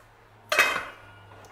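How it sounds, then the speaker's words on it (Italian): A lid is set onto a pot of tomato sauce for lasagna, one close metallic clink and rattle that quickly fades into quiet kitchen background. "E adesso mettiamo il nostro coperchio e facciamo cuocere il sugo."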